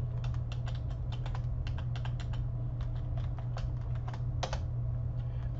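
Fingers type a password on a computer keyboard in quick, irregular clusters of close clicks over a steady low hum, with no talking.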